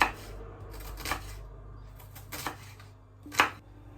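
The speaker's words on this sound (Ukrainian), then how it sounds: "Ріжемо дрібненьким кубиком." A few sharp knife taps on a cutting board, spaced irregularly, with a louder chop near the end, against a quiet kitchen background.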